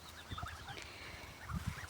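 Several grey geese gabble and honk softly at a distance, low chattering calls in an outdoor setting, no voices.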